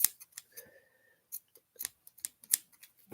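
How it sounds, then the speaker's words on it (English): Scissors snipping a sock into thin strips, a quick series of sharp crisp cuts with short pauses between them, close and fairly quiet, no talking. "My scissors just are not that great anymore."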